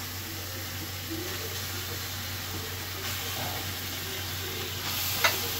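Meat sizzling and being stirred in a pan of spiced paste while cooking tehari with broken chinigura rice, a continuous close hiss of frying with scraping stirs and a sharp clink near the end.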